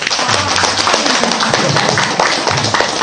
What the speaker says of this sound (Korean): 직장인들 박수 크게 한번 쳐보세요.